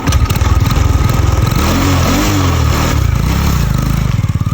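A motorcycle engine runs loud and close for the whole stretch, with a steady rumbling idle that rises and falls through a few short revs and no talk over it.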